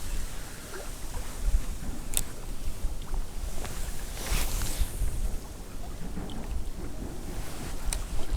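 Steady wind buffets the microphone outdoors near water while pike fishing, a constant rushing roar with occasional gusts and faint splashes, no voices.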